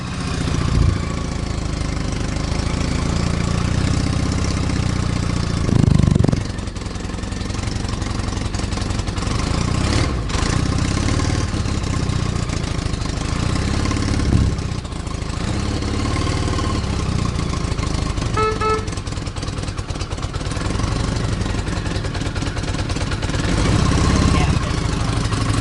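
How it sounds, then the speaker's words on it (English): A 1975 Honda Goldwing GL1000 four-cylinder motorcycle engine idles steadily and loudly up close, a continuous rumble throughout with a few faint knocks and clicks. "the bike does run on all 4 cylinders"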